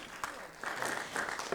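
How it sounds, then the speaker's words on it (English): A mayoral debate audience claps for the candidates, a short, fairly faint patter of applause that swells after a moment, with a voice faintly over it. "let's give a round of applause to all the candidates tonight."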